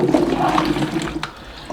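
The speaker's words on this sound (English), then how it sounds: "I'm gonna go ahead and pour this last bit of fruit in here." The last bit of fruit juice is poured into whiskey, giving a short gurgling, splashing stream close by that tapers off after about a second.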